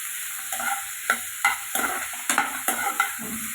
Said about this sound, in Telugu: ఫ్రై చేసుకున్నాం లైట్గా.